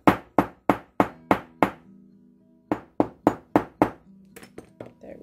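Metal earring blank struck with a hammer on a loose, wobbly anvil: two bursts of sharp ringing blows, six then five, at a steady rhythm, close and loud, with a short pause between runs and lighter taps at the end.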